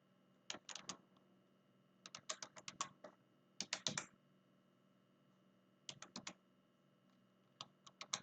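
Typing a PAN number on a computer keyboard, quiet clusters of quick close keystrokes in several bursts with gaps between them over faint background hum.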